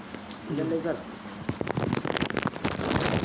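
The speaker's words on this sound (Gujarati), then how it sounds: "અમારા ગામમાં તો આવો વરસાદ છે" Village rain patters and crackles on a surface, growing denser after a brief voice murmurs at the start.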